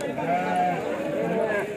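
Sheep at the Kadiri livestock market bleat loudly and close, with a long wavering call running through the whole clip and a busy crowd behind it.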